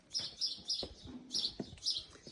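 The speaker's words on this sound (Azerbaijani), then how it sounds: "Daimi bu belə quşların səsi var." Birds chirp in a quiet garden with short, repeated high tweets at a steady rhythm, faint and somewhat distant, over soft background hush.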